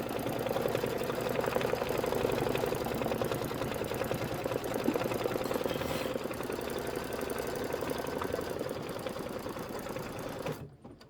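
An embroidery machine runs steadily at close range, stitching a decorative candlewick-like finishing stitch on a Kimberbell snowflake or star design. Its fast, even mechanical chatter holds for about ten seconds and then stops abruptly.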